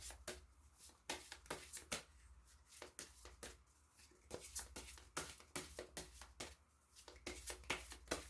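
Oracle message cards shuffled and drawn by hand, a close, quiet run of rapid papery riffles and flicks in irregular bursts.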